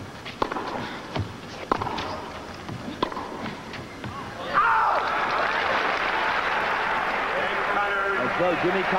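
A 1982 San Francisco tennis final crowd breaks into loud, sustained applause and cheering for Jimmy Connors' comeback, following a few isolated claps and light ball-court sounds, with a commentator's voice over the start.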